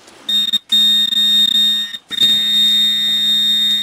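A metal detector sounding over a signal in an attic gives a loud, steady high-pitched electronic tone that is briefly cut twice before holding on continuously, with no voices.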